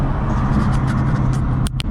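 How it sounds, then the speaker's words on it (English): Ford Mustang GT engine roaring steadily as the car drives along a service road with the windows down, a loud continuous low drone of intake and engine noise with a brief dip near the end. "You can really hear that intake."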